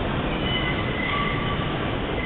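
A subway train rolls into a station with a dense, loud, continuous roar of wheels and faint high squealing from the track as it takes a turn.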